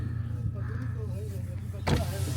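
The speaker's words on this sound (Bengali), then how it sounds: "আয়না খুলছি" A car's electric power window whirs as it lowers, a steady motor hum under a man's speech, ending with a short thump near the end.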